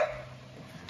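A single short dog bark, close and fairly loud, followed by quiet.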